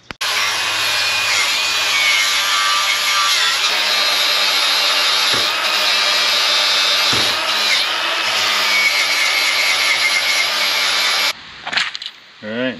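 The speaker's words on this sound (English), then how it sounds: "It's a lot easier to do with a grinder than a plasma cutter." An angle grinder cuts through a steel 2-inch trailer ball mount, a loud, steady high-pitched whine and grinding screech that runs nearly continuously before cutting off abruptly near the end.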